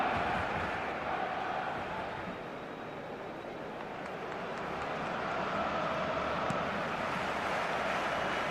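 A stadium crowd murmurs and roars at Barcelona vs Milan in a football video game. It is a broad, distant wash of massed voices that swells and dips slowly, fairly quiet throughout.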